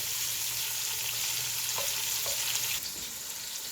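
Shrimp fry in a pan with a steady, close sizzle and crackle, while a few faint clinks of stirring land partway through and the hiss eases slightly near the end.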